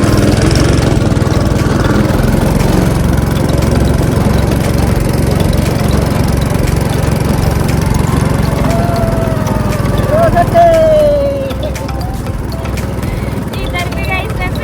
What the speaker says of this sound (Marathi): अब हम गो कार्टिंग जा रहे हैं